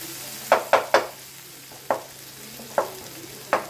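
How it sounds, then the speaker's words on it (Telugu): Noodles fry in a pan with a steady low sizzle, broken by a handful of sharp scraping stirs at uneven intervals, close and fairly quiet. "బాగా దీన్ని కూడా బాగా ఫ్రై చేసుకోవాలి"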